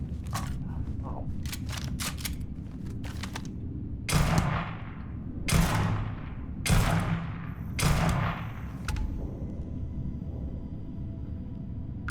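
Gunfire from a weapon in Starfield: bursts of sharp shots early on, then several single heavy reports spaced a second or so apart, each with a ringing decay, loud and close.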